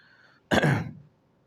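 A single short cough or throat-clear, close and fairly loud, alone in an otherwise quiet room.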